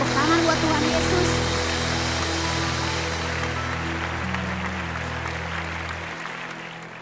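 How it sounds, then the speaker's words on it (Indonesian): Applause for Jesus during an online Sunday school service, a steady broad wash of clapping running the full length over a sustained low music bed, gradually easing toward the end. "Tepuk tangan buat Tuhan Yesus"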